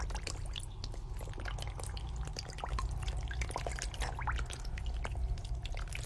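Water drops roll off a lotus leaf and fall, making a scatter of small, irregular drips and light patters over a soft background hiss, faint and close with no voices.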